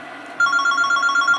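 A telephone rings in an office with a steady electronic trilling tone that starts abruptly and repeats in quick even pulses, loud and close, with no talking over it.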